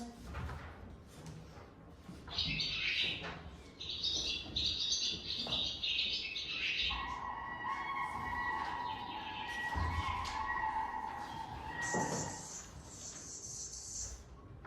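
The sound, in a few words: recorded bird calls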